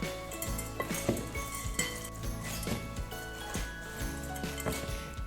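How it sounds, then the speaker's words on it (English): A spoon stirs a falafel salad mix of herbs with pumpkin and sunflower seeds in a bowl, giving repeated clinking and scraping knocks in an uneven rhythm, close and moderately quiet, no talk. "So I'm just going to give this a quick stir."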